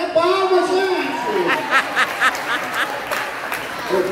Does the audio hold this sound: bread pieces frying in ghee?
no